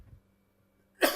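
A single short cough from a man in a classroom, loud and close, following a brief moment of quiet room hum.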